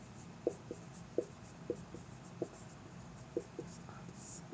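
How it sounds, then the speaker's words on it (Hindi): A writing implement taps and scratches against a board or paper in a steady series of short, distinct strokes roughly every half second, close but soft, with faint background noise and no clear speech. "अब इसका हम लोग रासायनिक समीकरण लिखते हैं"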